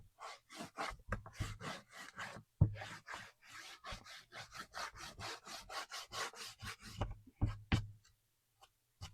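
Peppermint wax is rubbed over a wooden birdhouse in quick, rhythmic back-and-forth strokes, a close, soft scraping and swishing that pauses briefly now and then, with no talk.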